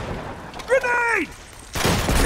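A grenade goes off in the Uncharted 2 video game during a Nepal war-zone firefight: a shouted voice rings out, then a loud, broad explosive burst erupts and rumbles on to the end.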